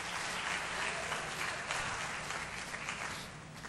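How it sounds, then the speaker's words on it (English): A church congregation claps during a sermon, a broad, continuous patter of many hands that holds level and then eases off slightly at the end. "Clap your hands and give our God"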